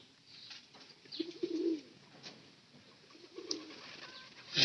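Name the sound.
pigeons cooing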